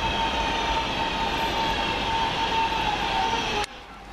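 A British Rail Class 323 electric train on the London Midland Cross City line runs with a loud, steady rumble and a faint tonal whine, then the noise drops sharply near the end.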